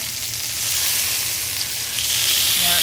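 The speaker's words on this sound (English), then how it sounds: "pick it up and put it on its side so I can sear the side." Chicken for fajitas sears on its side in a hot pan, giving a steady, broad sizzle that holds throughout at moderate loudness with no one speaking.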